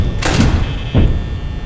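Two heavy security-door thunks from the Five Nights at Freddy's video game, close and loud, the second following about three-quarters of a second after the first.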